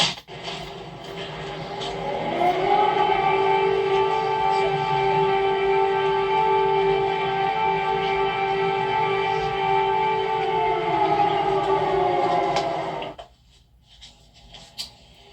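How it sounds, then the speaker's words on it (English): Air raid siren wailing over Kyiv, a steady sustained tone that rises at the start, holds for about ten seconds and then cuts off abruptly, leaving faint background noise. "There were just air raid sirens at precisely the moment that Joe Biden appeared for a photo op."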